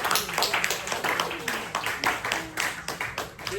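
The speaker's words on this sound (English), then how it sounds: "You can clap for that." An audience claps after a hydrogen and oxygen soap explosion demonstration, giving a brisk scattering of nearby handclaps mixed with voices talking over them.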